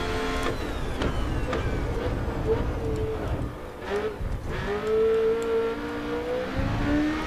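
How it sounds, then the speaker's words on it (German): Race car in Grid Autosport, a Lola, accelerating hard toward 300 km/h, with a loud, steady engine whine that rises in pitch through the gears and shows brief drops at shifts. "also das Auto geht wirklich ab. Noch einmal hier schnell 300 Sachen."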